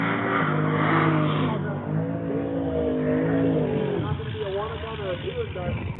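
A rowdy V-model race car driven hard at a track, its engine note rising and falling with shifts through the clip, loud and close, with talk running over it throughout.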